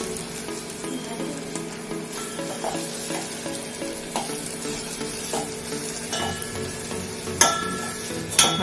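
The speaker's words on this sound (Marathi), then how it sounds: "हा मसाला चांगला परतून घ्यायचा आहे कांदा टोमॅटो बरोबर।" Masala sautéing with onion and tomato for a val bean curry, a soft continuous sizzle close up with spoon stirring scrapes and a few sharper clinks toward the end.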